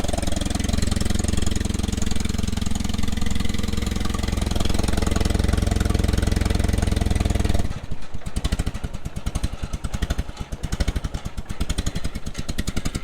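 A 1962 Allis Chalmers D12 tractor engine, freshly refreshed, runs loud and close with a steady rumble for about eight seconds, then settles into a rough, uneven, rhythmic idle with distinct firing pulses.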